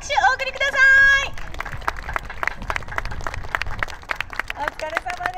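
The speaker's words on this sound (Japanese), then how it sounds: "今一度大きな大きな拍手をお送りください。" Audience clapping after a taiko drum performance by a children's and adult troupe at an outdoor harbor festival stage, a steady patter of many hands mixed with crowd murmur, following a short high-pitched voice at the start.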